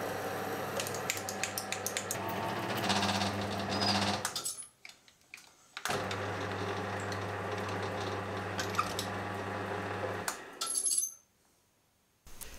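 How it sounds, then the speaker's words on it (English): A metal lathe with a parting blade cuts a small groove into a metal workpiece, a steady whirring hum running in two long stretches with a short pause between them, ending in quiet, with no talk. "I'll first make a small gutter. Doing this should prevent the parting blade from moving around a little bit."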